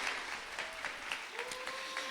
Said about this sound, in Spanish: démosle un aplauso por favor a Jime